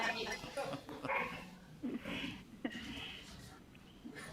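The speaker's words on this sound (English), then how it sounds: "That's not my dog." A dog barks and yelps a few times in the background, short sharp bursts partly masked by a steady voice speaking during a live-streamed education presentation.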